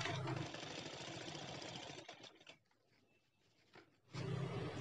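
An electric sewing machine stitches a fabric sling bag, its loud rapid needle chatter running for two seconds, pausing into near silence, then starting up again at full speed.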